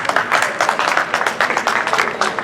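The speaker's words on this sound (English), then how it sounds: "give her a round of applause" Audience applause at the 2019 Jimmie Lunceford Jamboree jazz festival kickoff at Manassas High School: dense, steady clapping from a crowd that fills the whole stretch without letting up.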